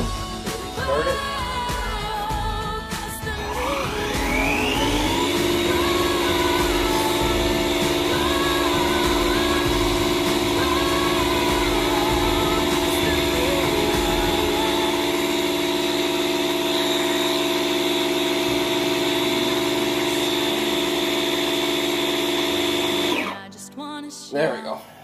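A DeWalt 20V cordless inflater compressor winds up and runs at a steady, loud mechanical drone for about twenty seconds before cutting off, with the motor's pitch holding constant throughout.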